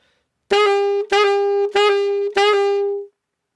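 A saxophone plays four sustained notes from a melody one after another, each attacked cleanly and held, with the last note ringing a little longer before stopping.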